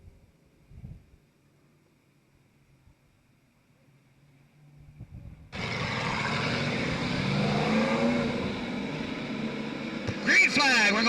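Race cars roar past at a speedway during a 2002 restart, the engine noise rising abruptly and then staying loud and steady after a quiet stretch with faint background sounds.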